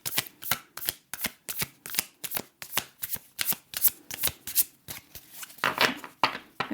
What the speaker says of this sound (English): I'm still gonna draw a few tarot cards